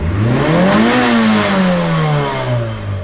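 A Mitsubishi Evo engine, Evo 8, 9 or 10, is floored from idle. The revs climb sharply to a peak, then hold and fall back in a loud, sustained, rising-then-falling engine note with no talk over it.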